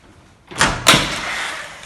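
A door in a home opens and shuts with two sharp knocks close together, the second louder and followed by a short rattling tail, heard near and alone.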